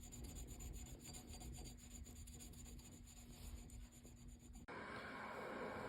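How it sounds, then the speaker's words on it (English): Steady abrasive rubbing and filing on a Springfield Prodigy pistol's steel breech face during light polishing and truing, a continuous close rasp that shifts abruptly in tone near the end. "Now we're just doing a light polish and truing up the breech face."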